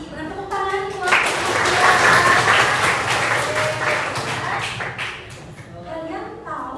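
A school class applauds in a lesson, with a few seconds of close, busy clapping and children's voices. A teacher's voice is heard before and after the clapping, and a dog barks briefly.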